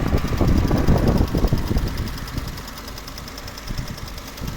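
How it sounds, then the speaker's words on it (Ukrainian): Close up, a 2007 Mercedes B170 1.7-litre petrol engine idles with a steady rattly tick; an early burst of louder rumble fades into an even, quieter idle. "Ідеально працює мотор"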